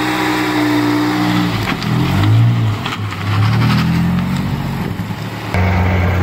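A car engine idles and revs nearby, rising and falling through a few throttle blips with a steady running drone underneath, loud and close.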